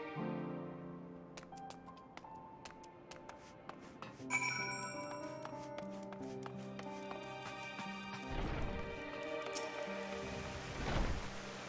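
Steady rain patters across a Final Fantasy XIV Endwalker game scene under soft ambient music with chimes and pinging tones, a low rumble swelling near the end; no one speaks.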